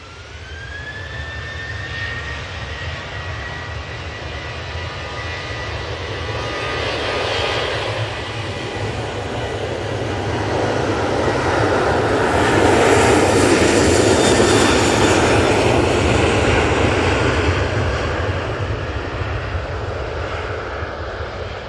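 A Ryanair jet airliner bound for Bratislava, its engines giving a sustained roar that swells louder toward the middle, with a thin whine rising early on.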